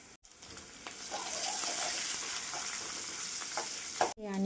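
Onion frying in hot oil with cumin, mustard seeds, chana dal, curry leaves and turmeric, a steady close sizzle with faint stirring scrapes, ending in a brief clatter.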